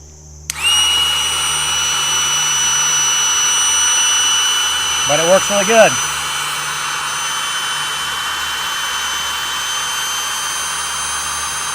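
A small electric air pump inflating camping sleeping pads on an overnight tent trip, running as a very loud, steady high-pitched motor whine throughout, with a short spoken remark partway through.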